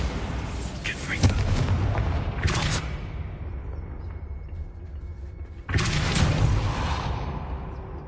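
Bombarda and Confringo spells exploding in the video game Hogwarts Legacy: two loud booming blasts with whooshing tails, a few seconds apart, over a continuous rumbling game soundscape.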